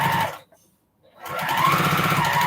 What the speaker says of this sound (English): sit here and just sew these strips and make a postage stamp quilt